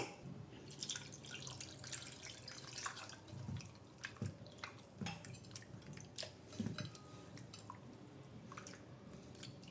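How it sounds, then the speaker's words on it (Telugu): Water splashes and trickles into a metal pot of raw mango tamarind soup, with scattered drips and light clinks of cookware, steady and close, no talking. "వాటర్ యాడ్ చేసుకుందాం"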